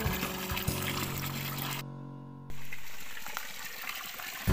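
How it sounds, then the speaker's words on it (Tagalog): Alkaline spring water flows freely from a natural spring, a steady loud rushing gurgle with a brief break partway through, and no talk. "isang spring, isang bukal na pinagagalingan ng alkaline."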